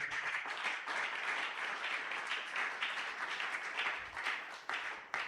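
A church congregation at a Sunday worship and thanksgiving service applauds in a steady, fairly faint wash of clapping that continues without a break.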